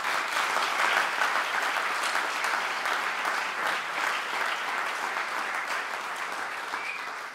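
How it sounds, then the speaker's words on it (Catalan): An audience claps in sustained, even applause, dense and steady for several seconds before tapering slightly, heard from within the room. "per això n'hi haurem de fer un petit aplaudiment"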